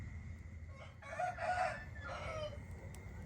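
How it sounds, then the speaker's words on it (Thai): A rooster crows once, fairly close, in a garden before dawn, over a low steady background hum with no voices. "ก็ยังนั่งฟังเสียงไก่เสียงนก"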